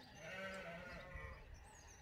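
Sheep bleat on a farm, several voices calling over a steady wash of flock noise, fairly close and continuous throughout.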